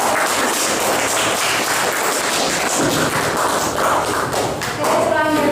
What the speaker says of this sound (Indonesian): kita berikan tepuk tangan untuk Pak